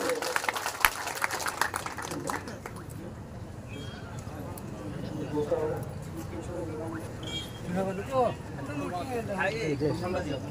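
An audience claps for the treasurer at a community association gathering, a busy patter of many hands for a couple of seconds before a voice takes over on the loudspeaker.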